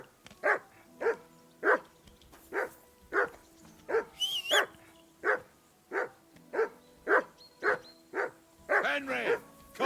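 Dog barking in the medieval game Kingdom Come: Deliverance, a long steady run of loud, evenly spaced barks close by, with a brief voice partway through.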